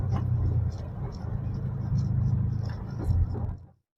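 A manual car in second gear rolls along a rough, damaged road, a steady close engine rumble and road noise that cuts off abruptly at the end.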